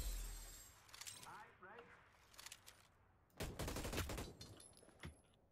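Gunfire in the Hyperscape video game comes as bursts of sharp, rapid shots, a short volley early and a denser, louder fusillade a few seconds later, with a player's voice talking over it.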